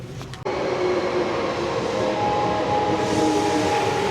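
A subway train rumbles steadily at a nearly empty platform, loud and close after a sudden cut in, with a low continuous roar and a faint whine rising toward the end.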